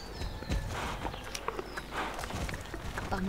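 Horse hooves clip-clopping in the Star Stable Online video game, a steady walking rhythm of crisp hoof clops over a soft ambient background, close and clear.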